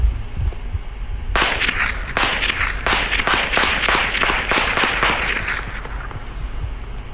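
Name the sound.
rifle firing a 7.62x39 round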